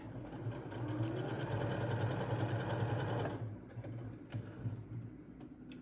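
Sewing machine stitching a homemade fabric face mask, a steady close mechanical whir for about three seconds that then stops, leaving quieter handling sounds.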